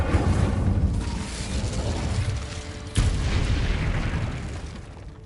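An Incendio fire spell erupts in Hogwarts Legacy as a heavy, rumbling fiery blast, loud and sustained, with a sharp second impact midway before the roar tails off.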